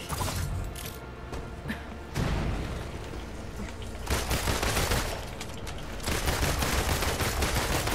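Bursts of rapid gunfire crack out while shooting a target in a Marvel video game featuring Iron Man and Black Widow, loud clustered volleys separated by short pauses.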